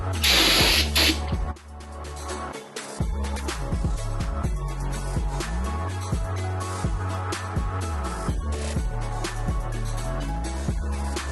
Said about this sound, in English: Some brake parts cleaner, it's about the only thing I got.